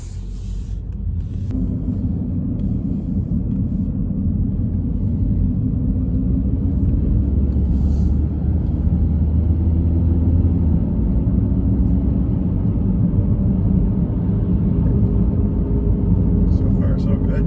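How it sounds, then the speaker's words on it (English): A Ford with a newly installed transmission is driven gently on the road, giving a continuous low engine and road rumble that stays steady throughout and rises slightly in the middle. "Just going to take it for a nice easy drive for a few miles."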